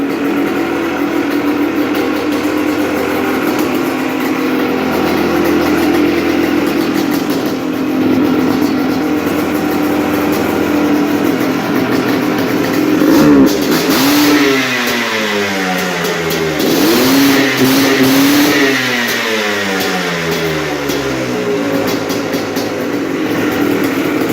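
A 1996 Yamaha Blaster engine, suspension off, hums at a steady idle, then revs up a few times in rising, falling surges before settling back.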